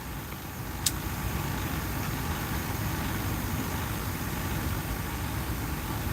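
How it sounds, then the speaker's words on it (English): Trucks idle in a parking lot in a warm part of Texas, a steady low engine drone that fills the background, with one faint sharp click near the start. "Why do people idle their trucks with their windows wide open?"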